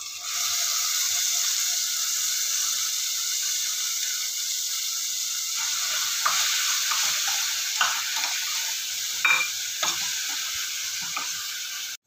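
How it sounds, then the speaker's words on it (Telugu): Onion paste frying in hot oil with drumstick leaves and green chillies for a pumpkin curry, a constant loud hiss and sizzle, joined midway by scraping stir strokes, no voices. "ఆనియన్ పచ్చివాసన పోయే వరకు బాగా ఫ్రై చేయాలి"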